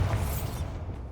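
The Bombarda blasting spell detonates in Hogwarts Legacy inside a cave, a short, heavy, booming burst that rumbles low and fades within about a second.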